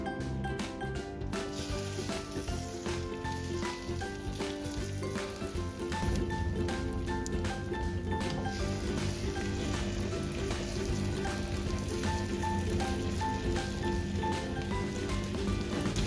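Hamburger patties fry in pure olive oil in a heated pan, a dense steady sizzle and crackle with scattered pops, close and continuous throughout.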